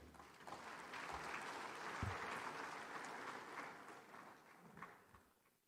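Audience clapping at a large banking conference hall welcoming an ambassador, a steady wash of many hands at moderate distance that swells and then fades out, fairly quiet overall.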